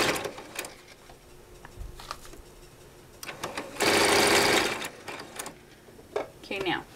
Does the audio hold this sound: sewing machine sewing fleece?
yes